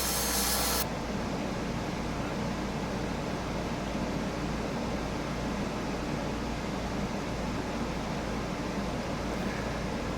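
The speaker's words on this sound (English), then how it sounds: "Once again, I'll take .220 grit sandpaper" Steady, dense abrasive rubbing of 220 grit sandpaper against a copper Sierra kit pen, a continuous close-up scratchy hiss that holds at an even level without pauses.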